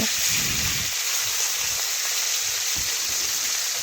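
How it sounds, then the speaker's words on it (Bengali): Katla fish pieces fry in hot oil in a pan, giving a steady, loud, close sizzle with occasional crackles and spatters. "এখন আর এক পাশ আমি লাল লাল ভেজে নেব"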